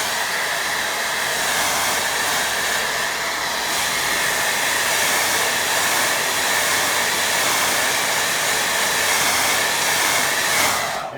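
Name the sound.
hair dryer drying a watercolour painting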